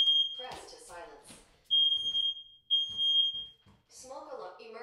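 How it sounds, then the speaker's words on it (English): A smoke alarm, set off by a fog machine, sounds in short high-pitched beeps, alternating with a synthetic voice announcing smoke in the dining room. "Smoke alarm. Emergency. There's smoke in the dining room."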